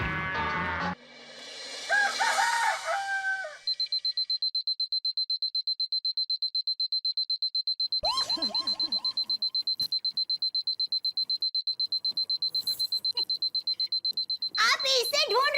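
A loud alarm clock rings in a steady rapid electronic beeping for about ten seconds, opening with a brief rooster crow, with voices of people talking around it and a short cry near the end.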